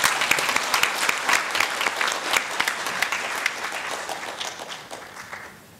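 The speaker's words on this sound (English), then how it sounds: "Let us all give a round of applause to the newly elected Bureau." Audience at a ministerial meeting on population gives a round of applause for a newly elected bureau; brisk, dense clapping from a large room that gradually tapers off.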